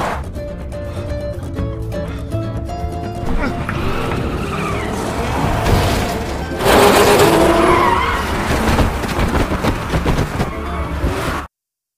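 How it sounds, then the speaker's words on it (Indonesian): A car drifts with skidding, squealing tires and a revving engine in a high-speed street chase through a zombie-filled city in the 2020 film Peninsula, loud and continuous beneath a dense music score. "ahli ngedrift dan menabraki para zombie di jalanan"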